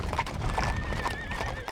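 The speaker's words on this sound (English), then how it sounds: "Back on the move, the horses pick up the pace" A herd of horses on the move in a Wild West setting, with close, busy hooves clopping and a horse neighing, all fairly loud and continuous.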